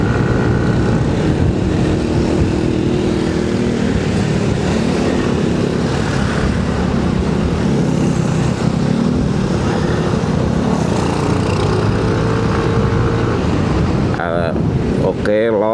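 Yamaha motorcycle on a leisure ride, engine droning steadily and loud throughout at close range, with wind rush and shifting revs, a rider's voice faintly mixed in.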